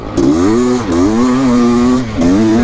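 Honda motocross bike, a CR500 or CRF450R, ridden on a muddy, sandy dirt track, its engine droning loud and close with steady revving that dips and rises as the rider works through corners.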